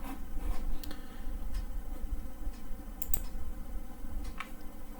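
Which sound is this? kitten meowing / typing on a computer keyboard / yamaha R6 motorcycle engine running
typing on a computer keyboard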